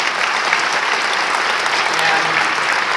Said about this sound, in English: So if we could get a round of applause for both the junior college and the senior ambassador.